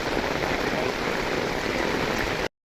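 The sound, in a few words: heavy rain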